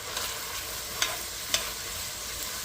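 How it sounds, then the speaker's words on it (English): Onions sautéing gently over low heat in a pot for a cabbage roll casserole, a soft steady sizzle broken by a few sharp clicks of a utensil scraping and stirring the pan. "We'll give our onions a little stir here."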